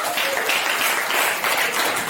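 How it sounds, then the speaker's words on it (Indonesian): Classroom students clap for their classmate Nabila: a dense, steady burst of applause from a group, fairly close and without speech. "Silakan berikan tepuk tangan untuk Nabila."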